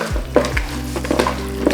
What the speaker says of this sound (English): I'm gonna add my fresh thyme, and I'm gonna just mix all that up